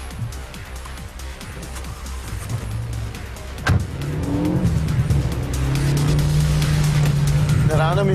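A 2012 Renault Megane RS accelerates, its engine note building from a steady drone into a loud, rising rev with tire noise, heard close and continuous with a voice talking over it.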